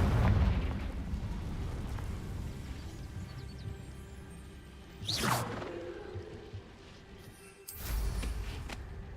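Confringo fire spell blasts in Hogwarts Legacy, two whooshing explosive bursts a few seconds apart over a steady low game background, moderately loud with no talking.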